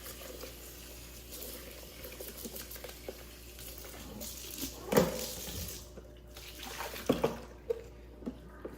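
Tap water runs into a sink as the dirty mop water tank of an ECOVACS DEEBOT T80 OMNI robot vacuum is rinsed, a steady hiss of flow with a few louder splashes and knocks near the middle and end.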